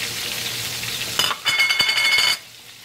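Mushrooms tossed in a frying pan, a steady sizzle broken by a brief rattle and clatter as they are stirred, then the sizzle drops away quieter.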